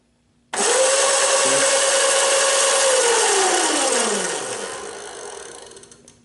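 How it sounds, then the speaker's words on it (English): A Razor E300 electric scooter motor with a variable speed control spins up abruptly to full speed. It holds a loud steady whine, then winds down in pitch as it coasts off. "that sound that you guys hear is the motor absolutely going full speed, just turning on to the full capacity"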